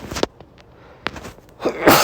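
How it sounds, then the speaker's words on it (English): One loud, sharp sneeze lands near the end, preceded by a short inhaling catch and a couple of small breathy noises in an otherwise quiet room. "I don't think I ever sneezed on video"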